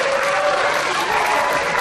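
A wrestling crowd at an Irish Whip Wrestling match claps steadily for AJ Styles during his bout with Chris Daniels, a loud, dense wash of applause filling the arena.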